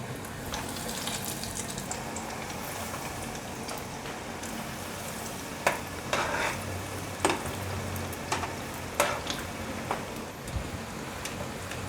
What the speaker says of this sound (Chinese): 热一锅油，油热了，把丸子放进来炸。